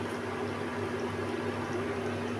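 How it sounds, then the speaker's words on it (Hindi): A pot of kadhi bubbles at a steady boil, a dense continuous simmering hiss over a low hum, with no voices. "देखिए कैसे कड़ी उबल रही है, इसको बॉयल आ रहे हैं"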